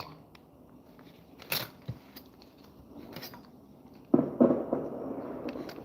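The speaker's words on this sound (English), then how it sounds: "there's fireworks going on." Fireworks going off outside in the distance give a few scattered muffled pops and thumps over quiet indoor background, ending in a louder cluster of bursts.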